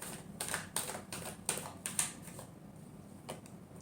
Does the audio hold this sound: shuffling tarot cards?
yes